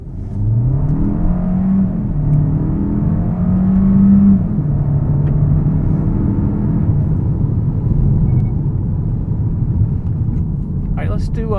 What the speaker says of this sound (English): let's just do one more acceleration run in sport mode